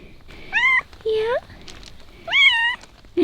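A cat meows several times close by, drawn-out rising and falling calls with short pauses between them, and a person speaks briefly between the cries.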